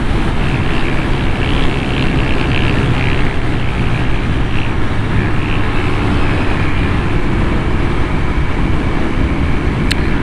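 Royal Enfield Interceptor 650 motorcycle on a test ride, a steady broadband engine and wind roar holding constant and loud throughout, with no talk.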